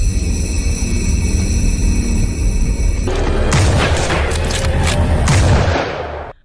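Gunfire exchange in a film scene: loud booming shots and rapid bursts crash in over a steady tonal backdrop, a dense flurry of blasts filling the second half before fading out.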